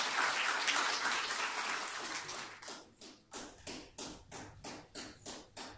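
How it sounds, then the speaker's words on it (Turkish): Applause from an audience at a Bursa award ceremony, dense and sustained at first, then breaking into about eight rhythmic unison claps as the crowd falls into a steady beat. "alkışlarınıza sahneye davet ediyoruz"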